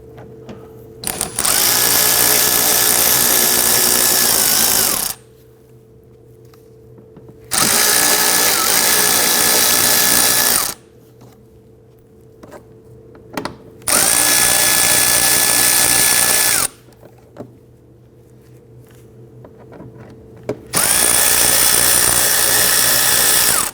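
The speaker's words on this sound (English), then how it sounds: "we want to go ahead and remove the T25 Torx bit screws running down the fender liner, attaching to the bumper" A power drill backs T25 Torx screws out of the fender liner on a 2009-2017 Volvo XC60, four loud, close whirring bursts of several seconds each separated by short quiet pauses, with no talk.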